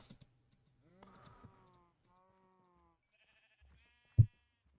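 Minecraft sheep bleat faintly in wavering calls, with quiet tonal game sounds after them and a single loud thump near the end.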